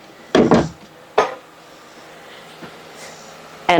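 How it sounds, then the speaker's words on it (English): A plastic cutting board set down into a sink with a couple of sharp clattering knocks, then a few lighter taps and quiet handling noises, close by and with no talking. "I'm just going to put that in the sink."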